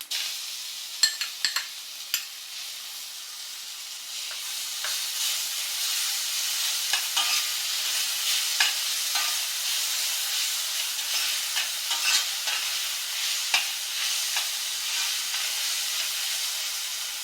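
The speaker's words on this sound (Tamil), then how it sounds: "கொஞ்சம் நல்லா வதக்கி விட்டுருங்க." Raw mango pieces sauté in a hot pan for mango rice, making a soft, steady sizzle and hiss with scattered clicks of stirring against the pan.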